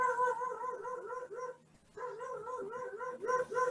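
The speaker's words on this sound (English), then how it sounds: "in light of the barking dog." Dog barking in bursts during an online public transit study presentation, a string of repeated barks and yips, then a short pause, then another run of barks, clear and fairly close with no talking.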